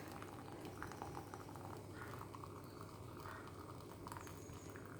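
Tea with ginger and cardamom boiling in a pot, a steady, dense bubbling and simmering that continues evenly throughout with no voices.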